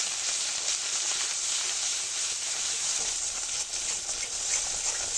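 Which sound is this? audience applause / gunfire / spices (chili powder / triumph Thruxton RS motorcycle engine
spices (chili powder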